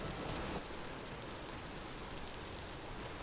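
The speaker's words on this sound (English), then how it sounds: "And it's raining." Rain falls in the survival video game Vintage Story, a steady, even hiss of downpour that continues unbroken at moderate loudness, with no voices over it.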